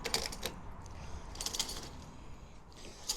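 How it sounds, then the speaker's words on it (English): A sprocket winds the track onto a huge-scale Armortek Jagdpanther G2 RC tank, producing faint, close ratcheting clicks in short clustered bursts over a low background hiss. "use the sprocket to help wind the track on"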